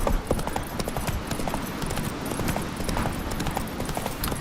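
Horse hooves galloping in The Witcher 3 video game, a steady rapid clip-clop rhythm running continuously and loudly throughout, with occasional faint game sounds underneath.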